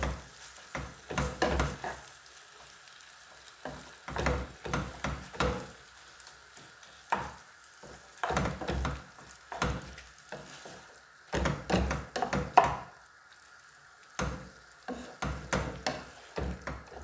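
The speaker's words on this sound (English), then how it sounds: "I'm just taking time to mix it before I add in some little stew to boil up with it." Fried matoke bananas with minced meat are stirred in a pan, giving repeated bursts of scraping and soft knocks over a steady sizzle, close up with no talking.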